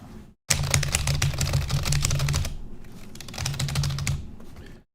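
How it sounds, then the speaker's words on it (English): Rapid typing on a computer keyboard, dense clattering keystrokes in two long bursts with a brief pause between, close and fairly loud with no talk. "Quasar doing the Gabby Hanna typing over there"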